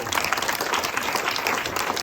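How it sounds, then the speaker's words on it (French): Audience applause at a French comedy stage show: dense, steady clapping from a full house, loud and unbroken for the whole stretch. "Vous pouvez m'applaudir."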